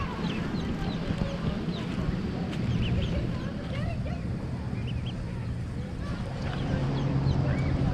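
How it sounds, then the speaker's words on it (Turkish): Many ducks quack in a noisy, overlapping chorus nearby near Kızkumu beach in Marmaris, Turkey, with a steady outdoor rumble and faint voices underneath. "İşte, ördekler."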